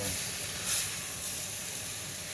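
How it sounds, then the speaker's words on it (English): A steak sizzling in a hot skillet, a steady soft hiss of frying that holds evenly throughout with no talk over it. "I see that the steak is starting to sizzle a little bit"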